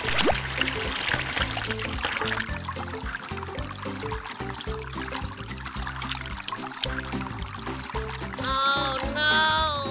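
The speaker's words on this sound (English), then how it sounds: "Testing water pump works." Steady pouring and trickling water from a small pump in a Lego water ride runs throughout under a droning, repetitive background, with a brief higher warbling sound near the end.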